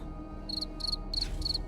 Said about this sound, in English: send me that cricket sound effect so I can put it on my stream deck